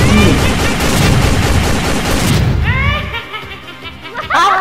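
Gunfire in a video game, dense rapid shots and booms filling the first three seconds, then thinning out into scattered electronic effects; loud and busy throughout.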